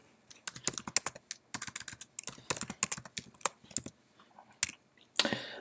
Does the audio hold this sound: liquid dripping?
no